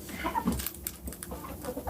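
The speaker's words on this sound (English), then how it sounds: "Oh, here's her rooster coming back." A rooster among backyard hens, including an Americana, gives a few soft, low clucks close by over a quiet, rustling farmyard background.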